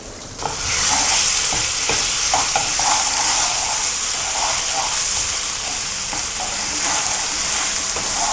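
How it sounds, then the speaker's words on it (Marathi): Raw mango pieces sautéed in hot oil for a kairi chutney, a loud, dense sizzle and hiss close up with intermittent stirring scrapes throughout. "कैरीला छानसं परतून घ्यायचं"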